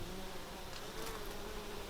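Bees buzz around flowers in a garden in September, a faint, steady hum with no talking.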